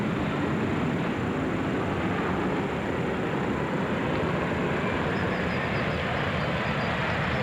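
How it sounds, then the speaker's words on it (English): A jet aircraft passes over a baseball stadium during a 1991 Dodgers vs Mets game, a loud, continuous broadband roar holding steady throughout. "Everybody waits for the jet to go by."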